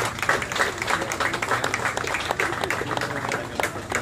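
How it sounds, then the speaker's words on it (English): Audience applause fills the space, a thick wash of many hands clapping steadily and fairly loud, with some voices mixed in underneath. "Give him a hand of applause"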